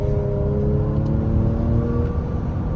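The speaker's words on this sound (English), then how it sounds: "The engine just doesn't sound good either to me." A 2023 Ford Edge ST engine pulls under acceleration, a steady droning hum with a low rumble holding at a constant, fairly loud level throughout, no voices over it.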